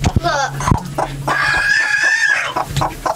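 A hen near a chicken coop clucks in quick, close bursts, with a drawn-out vocal call in the middle and rougher clucks around it.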